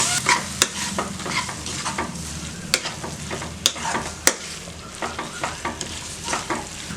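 Mutton fat, the caul fat around the intestines, frying in a pan while being stirred: a constant close sizzle broken by repeated sharp scrapes and clinks of the spatula against the metal.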